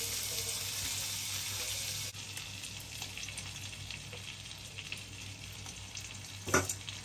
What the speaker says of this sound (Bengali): আমরা এইগুলো এখানে দিয়ে কিছুটা ফোড়ন দিয়ে নেব